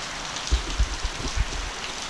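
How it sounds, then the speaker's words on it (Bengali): Rain falls steadily in a soft, even hiss, with a few louder drops or drips landing nearby and no voices. "আর এই দিকে দেখুন বৃষ্টি হচ্ছে, বেশ ভালোই বৃষ্টি হচ্ছে।"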